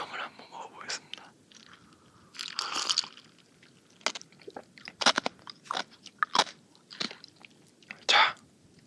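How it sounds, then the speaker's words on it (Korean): Ice being bitten and chewed close to the mic in a quiet room, sharp separate crunches in an uneven run, with soft whispering between bites. "얼음을 한번 먹어보겠습니다"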